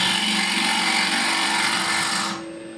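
A small wood lathe hollows an off-center vessel, giving a steady, loud whirring drone with a high-pitched cutting hiss that runs continuously, then drops away abruptly near the end.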